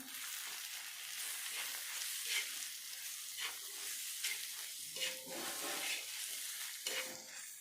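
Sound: stirring masala pav bhaji with coriander powder in pan

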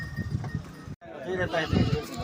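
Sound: goats bleating at a livestock market

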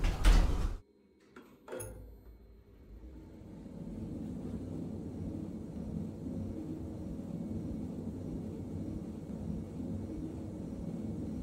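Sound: elevator doors closing in Roblox video game

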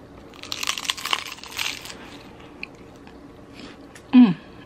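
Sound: crunchy chip being bitten and chewed

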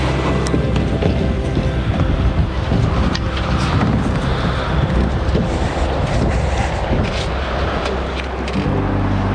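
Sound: river water flowing

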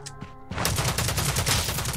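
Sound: gunfire, headshot in a video game

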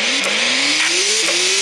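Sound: race car engine in the video game Skiddy Car

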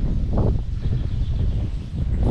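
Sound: strong wind blowing outdoors by a swimming pool

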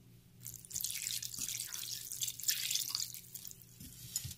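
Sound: lime juice poured onto shrimp for ceviche

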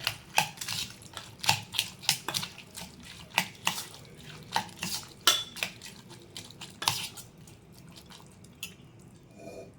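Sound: mixing masala ingredients with pepper powder

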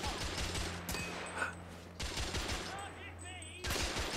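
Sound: gunfire in video game The Order 1886

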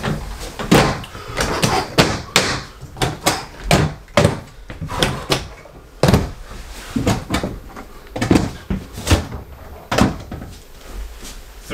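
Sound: drawers closing

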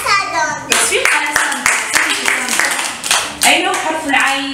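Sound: children clapping hands

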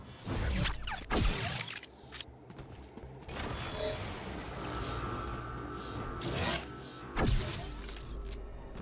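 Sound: placing a disruptor pylon in a video game

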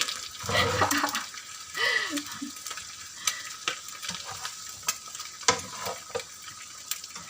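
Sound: stir-frying fried rice in a pan

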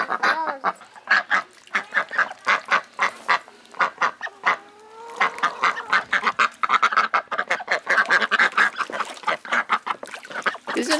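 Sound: ducks quacking

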